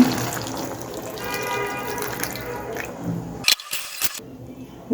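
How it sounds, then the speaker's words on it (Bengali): Water streams steadily into a pot of small-fish curry for a few seconds, followed by a couple of sharp clanks and scrapes of cookware. "দিয়ে দিচ্ছি পানি"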